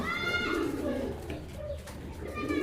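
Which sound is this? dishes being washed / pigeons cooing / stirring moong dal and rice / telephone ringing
pigeons cooing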